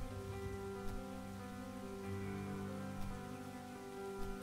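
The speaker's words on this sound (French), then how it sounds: "Ouais, il pleut." Soft, steady rain falls in the video game Starbound, a faint continuous hiss layered over low droning game music, with no speech.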